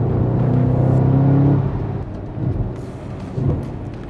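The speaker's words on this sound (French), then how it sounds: "On entend le son rauque, le vrombissement du moteur, c'est fou." Audi RS4 B8 with its V8 engine, a raspy low growl that holds steady, then drops away and returns in brief rising surges as the car downshifts, close and loud with no talking.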